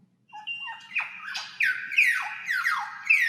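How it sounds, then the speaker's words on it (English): A recorded bird squawks loudly and close, a run of harsh, rapid, overlapping cries that grow more insistent toward the end. "More birds."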